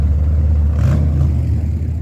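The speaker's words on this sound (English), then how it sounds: "There's one of your old pickup trucks right there." An old pickup truck rolls past in an Australia Day car parade at Hastings, its engine giving a loud, steady low rumble that swells slightly as it passes close by.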